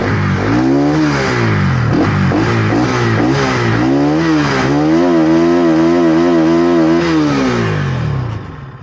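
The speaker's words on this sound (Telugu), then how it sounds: "వీటి మనం ఆర్పిఎం చూద్దాం గాయస్. అంటే ఏ బైక్ ఎలా వస్తుందో ఒకసారి చూద్దాం." Bajaj Pulsar NS200 BS6 motorcycle engine revving hard and close, the pitch climbing and falling in repeated throttle blips before a steady high hold, then cutting off near the end.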